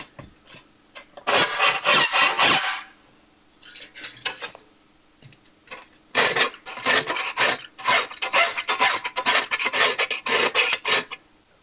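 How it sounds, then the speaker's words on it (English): A hand file rasps back and forth on aluminum while a square hole is cleaned up, in bursts of quick, scratchy strokes with short pauses between them. "And then we're going to finish it with a file."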